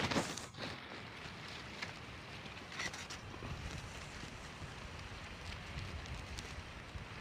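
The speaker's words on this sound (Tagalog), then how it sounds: "Sobrang lakas ng hangin" Strong wind buffets a cornfield in a steady rushing roar, with occasional sharper gusts and rattles throughout.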